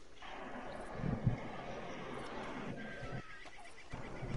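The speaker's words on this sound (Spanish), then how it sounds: "¿De quién es este caballo?" A horse whinnies in the video game Red Dead Online, a loud neigh rising over a steady backdrop of ambient game noise and trailing off, with a quieter stretch near the end.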